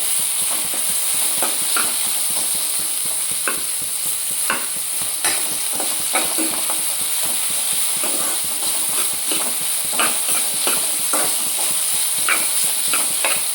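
Chapati pieces and onion fry in a pan with a steady, close sizzle, while a utensil stirs and scrapes through them in irregular clicks and knocks, with no voices.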